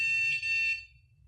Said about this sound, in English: So I press the Y button and the receiver beeps.